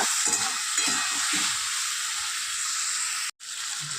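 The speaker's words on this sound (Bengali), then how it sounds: "এবার এটা খুব ভালো করে কষিয়ে নেব" Spice masala frying in oil for a Bengali hilsa fish curry with eggplant and potato, a steady loud sizzle with faint stirring taps, briefly cutting out near the end before resuming.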